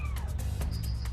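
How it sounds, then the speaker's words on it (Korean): A kitten trapped behind a wall gives a short falling cry and then a thin higher call, clearer and closer, over low rumbling background noise. "가까이 다가가니 고양이 울음소리가 더 선명하게 들리는데요."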